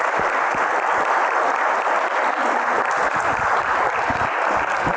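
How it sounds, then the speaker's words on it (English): An audience gives a round of applause for the guest panelists at the close of an architecture talk on care and community: dense, continuous clapping at an even level for the whole stretch, with no voices. "We can give a round of applause to our guests up here."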